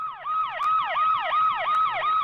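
A loud, close emergency siren wails in rapid, regular rising and falling sweeps, repeating steadily with no voices.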